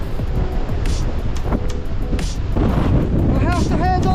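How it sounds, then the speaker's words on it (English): Strong wind of up to 40 mph with rain on the Glyder Fawr summit in Snowdonia; heavy, gusting wind buffets the microphone throughout, with brief tonal whines near the end. "I can't really do a proper tour for you because it's stupidly windy."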